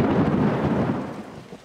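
A deep rolling rumble of thunder from a thunderstorm in an animated children's cartoon, loud at first and slowly fading over under two seconds.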